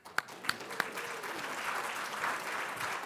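Audience applause at a hacker conference closing ceremony, a few sharp claps at first and then spreading into sustained, moderately distant clapping from a seated crowd.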